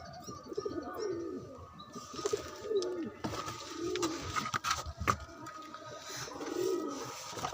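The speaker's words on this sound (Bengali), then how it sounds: "এখানে দুটো পায়রা আছে" Pigeons coo in low, throaty, repeated calls, several birds overlapping at close range, with a few faint chirps in the background.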